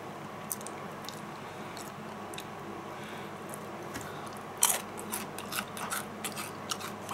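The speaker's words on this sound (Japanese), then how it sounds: "パリパリ" Crunchy bites and chewing of crispy Kentucky Fried Chicken, close to the mic, with a sharper crunch midway followed by several smaller crackles.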